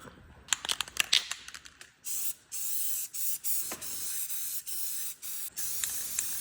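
Spray paint hisses onto a flatbed trailer in a series of separate bursts after a few quieter clicks and rattles, each spray held for about half a second to a second, close and fairly loud.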